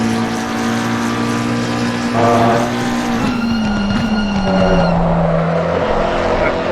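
A race car in a racing video game at the Red Bull Ring slides sideways, its loud, steady engine drone wavering in pitch as the tyres scrub and skid through the slide.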